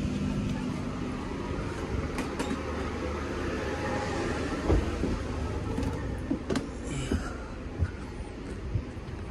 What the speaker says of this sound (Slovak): Môj vlak.